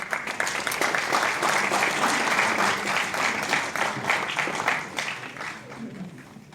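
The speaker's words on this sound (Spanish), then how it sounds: "Un fuerte aplauso para la magíster." An academic audience gives a loud, sustained round of applause for a presenter, many hands clapping in a thick continuous wash that stays strong throughout and eases slightly near the end.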